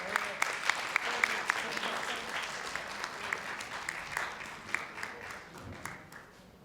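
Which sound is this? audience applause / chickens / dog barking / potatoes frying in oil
audience applause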